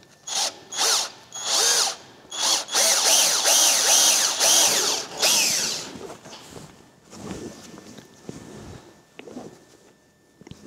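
A power screwdriver drives screws into a guard on a Vespa GTS 300 scooter, with several loud, close whirring bursts of varying pitch that fade into quieter clicks and handling noise.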